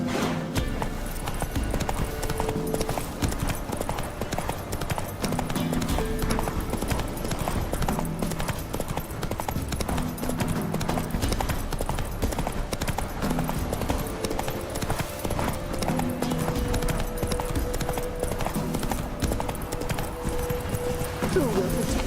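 A horse trots in the video game The Witcher 3, with steady rhythmic clip-clop hoofbeats running throughout alongside ambient game sound.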